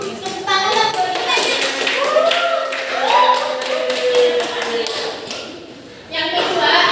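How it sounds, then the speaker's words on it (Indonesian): A classroom group claps hands together in a dense, continuous patter lasting several seconds, fairly loud and close, with children's voices chattering underneath and a brief dip near the end before the clapping picks up again. "Tepuk tangan lah buat kita"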